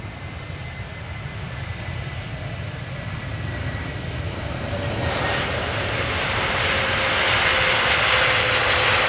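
A Delta Airbus A330 lands at Amsterdam Schiphol. A loud, continuous jet roar swells midway as reverse thrust builds into a heavier, broader rush that holds to the end.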